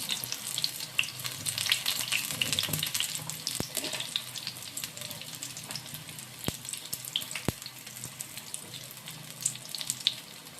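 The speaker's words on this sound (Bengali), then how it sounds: "এইভাবে আমি দুটো দুটো করে ভেজে নেব" Bitter gourd pieces frying in oil, two at a time, as a steady, fairly quiet hiss of bubbling oil with a few sharp clicks and crackles, close, with no talking.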